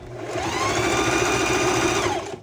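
A sewing machine stitches a zipper onto a pullover hoodie, running in one steady, fast, close whirring burst with no pauses and no talking.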